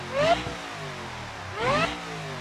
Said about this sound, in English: And now our Supercharger sounds like this.